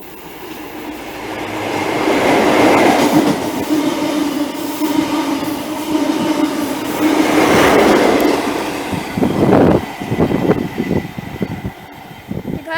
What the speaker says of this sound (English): And there was the other 1548 Great Western Railway pass from Plymouth to Penzance.